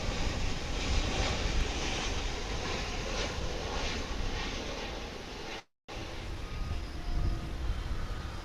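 Airliner on final approach at DFW International Airport after a long flight from Buenos Aires, a steady broadband engine roar holding loud and close throughout, with one brief dropout midway.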